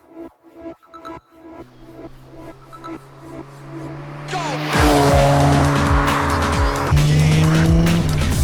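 A Mazda RX-7 FC3S revs and drives hard, its engine rising from choppy idle blips into a loud, sustained roar with gear changes and tire squeal, close by.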